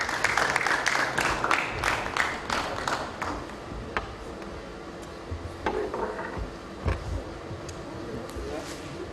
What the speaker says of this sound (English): Let's clap our hand for her.